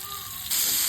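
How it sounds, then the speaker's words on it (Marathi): Rava-coated fish shallow frying in a pan, Malvani style, giving a steady close sizzle that jumps noticeably louder and brighter halfway through. "आता आपण फ्राय करतोय त्यामुळे रवा फ्राय करतोय"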